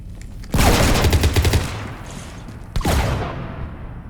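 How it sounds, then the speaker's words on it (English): Bursts of rapid gunfire rake a ship in Mass Effect, a dense loud volley for about a second, then a second sharp burst with a lingering tail. "You want to stop shooting up my ship?"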